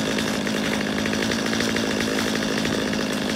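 A chainsaw engine drones steadily and loudly throughout, a continuous buzzing rasp with no pauses.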